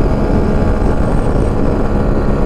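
A CF Moto Papio motorcycle runs flat out in sixth gear, its engine a steady, loud drone under heavy wind roar, continuous with no breaks.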